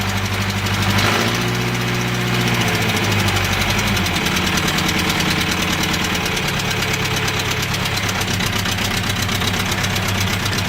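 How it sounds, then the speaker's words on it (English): A John Deere 410 backhoe loader engine runs after a cold start following two weeks unused, loud and near, with a steady knocking diesel idle and a deep rumble throughout. "video of the 410 backhoe loader. That was a cold start,"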